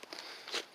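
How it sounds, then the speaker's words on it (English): Footsteps on soft, wet, spongy soil near manure-filled nest boxes, a few faint, brief crunching squelches close by. "Everything feels like I'm walking on a sponge here."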